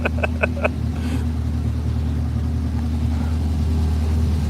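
A Mazda NC Miata sits idling, its engine holding a steady, low, even hum throughout, with a few faint ticks near the start.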